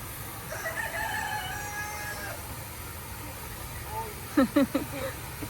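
Chickens being fattened cluck and call faintly in the background, with a burst of sharper squawks near the end over steady outdoor noise.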